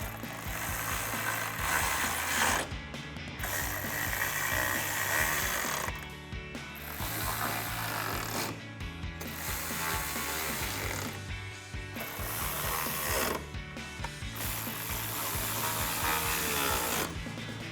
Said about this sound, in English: we'll go ahead and tighten those bolts down with our 10mm socket